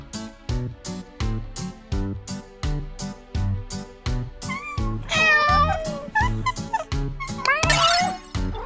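A Maine Coon cat meows several times over a steady, rhythmic backing melody, its calls rising clearly above the music toward the end.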